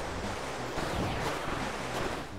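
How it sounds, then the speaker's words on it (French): Ocean waves in the video game Kirby Star Allies make a continuous broad rushing wash of surf, steady and moderately loud, with no speech over it. "C'est que des vagues?"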